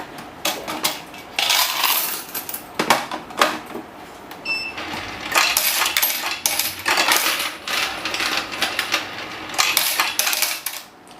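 A EUROX 520 coin counting machine counts Thai baht coins with a dense, rapid metallic clatter and jingle of coins. Short pauses break up steady bursts that stay close and fairly loud throughout.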